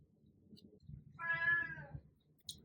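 A house cat gives a single drawn-out meow, clear and fairly close, over a faint low background rumble, with a tiny click afterward.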